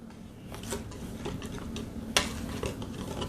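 Whisk attachment blending tea cake batter ingredients in a bowl, with soft repeated stirring strokes and occasional light clinks against the side, close and moderately quiet.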